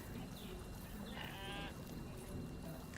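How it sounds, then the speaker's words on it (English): A sheep on a farm in a homestead video game bleats once, brief and moderately close, over a steady bed of rain and wind noise. "We have little sheep over here."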